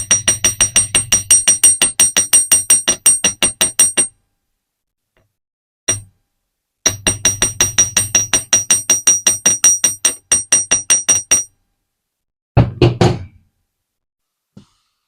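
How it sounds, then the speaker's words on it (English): Rapid metallic taps from a small hammer striking the curve of a jewellery hook wire, in two long even bursts, with a lone tap between them and a heavier knock near the end. "slightly hammer on the outer curve of this hook wire."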